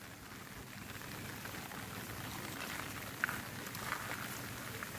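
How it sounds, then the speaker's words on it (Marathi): Steady light rain falls over a rice paddy in Konkan during transplanting, a soft continuous hiss throughout with a couple of brief drip-like ticks near the end. "पाऊस हा काय बरो"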